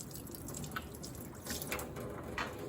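Tap water runs steadily into a sink while an ink brayer from printmaking is rinsed and wiped with a sponge, a soft continuous flow with faint drips and light splashy touches, heard close and fairly quiet.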